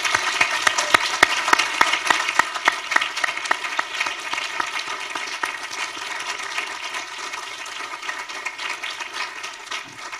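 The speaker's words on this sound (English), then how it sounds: "let's please give a round of applause" A university townhall audience gives a round of applause, crisp individual claps at first that blend into a softer, continuous patter and gradually thin out.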